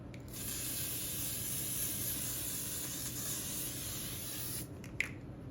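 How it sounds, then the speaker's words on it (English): A long, steady hiss of L'Oreal setting spray misted onto a face, close by, lasting several seconds before stopping with a small click. "I'm gonna spray my face, and this is L'Oreal setting spray."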